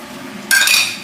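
Dishes and cutlery being washed by hand, with a bright burst of clinking and scraping utensils in the second half after a quieter start.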